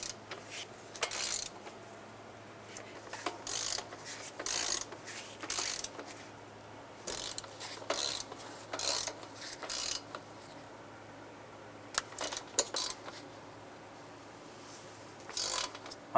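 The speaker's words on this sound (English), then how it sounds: "we're going to torque the nuts and the bolts down to 13 foot-pounds" Torque wrench snugging the starter nuts and bolts toward 13 foot-pounds on a 2000-2006 Toyota Tundra, giving many short, faint metallic clicks and ticks spread irregularly over a quiet workshop background without speech.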